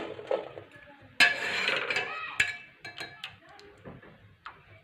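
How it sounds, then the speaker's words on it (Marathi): A slotted spoon scoops steamed peas out of a metal pot into a dish, making a run of clinks and scrapes against the metal, with one louder clattering scrape and then lighter scattered taps. "झाऱ्याच्या मदतीने मी सर्व वाटाणे पातेल्यामधून काढून घेतलेले आहेत"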